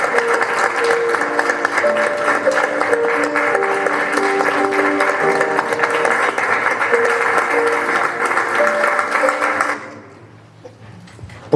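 Audience at a lecture on democratic values in education applauding the speakers: sustained, dense clapping for nearly ten seconds, loud and even, then dropping off abruptly to near quiet.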